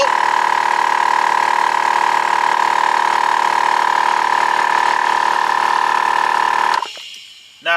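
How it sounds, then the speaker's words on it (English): A T-Max 12V air compressor runs with a loud, steady motorised whine and buzz for several seconds, then cuts off abruptly and winds down into near silence before a brief noise at the end. "So I'm going to switch it on."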